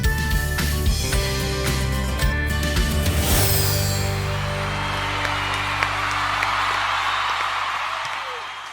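A studio audience breaks into clapping and cheering, a broad rising wash of applause that takes over from a musical opening and holds steady before fading slightly.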